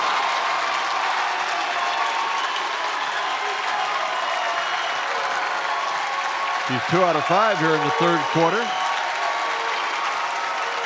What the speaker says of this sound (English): The Northwood crowd has traveled very well to LaPorte today, and they're making some noise in the Slicer Gym, especially now.